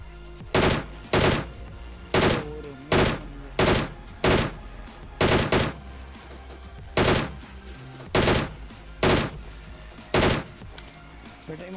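Bursts of gunfire from the Free Fire video game's winter festival mode, about a dozen sharp loud shots in uneven rhythm, some in quick pairs, over a low steady game background with no talk.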